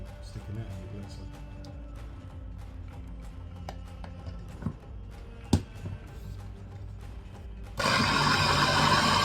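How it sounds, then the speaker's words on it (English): A blender blitzes a spiced butter chicken sauce: after a stretch of kitchen clatter under talk, the motor kicks in sharply near the end as a loud, steady whirring roar. "We're going to put this into the blitzer, blitz it all up, and then strain it all back into the pan."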